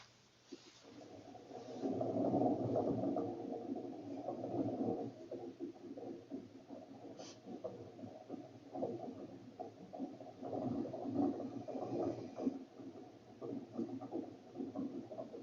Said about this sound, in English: This is the sound of the leaves as the wind is going across the forest